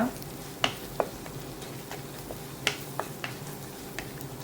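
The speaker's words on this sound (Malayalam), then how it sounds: "ഇതെല്ലാം നമുക്ക് നന്നായിട്ടൊന്ന് ഇളക്കാം" Spice powder is stirred in a frying pan for a Kerala chicken thoran, giving faint, sparse scrapes and taps of a spoon against the pan over a quiet background hiss.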